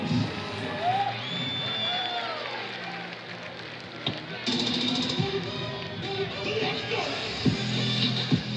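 Stadium crowd at a Northwestern State Demons college football game against Sam Houston State applauding guest coaches, a broad sustained roar of clapping and cheering with scattered whoops, under an announcer's voice.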